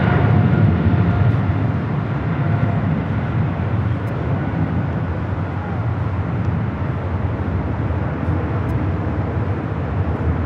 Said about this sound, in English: I can hear Swiss taking off on this south side.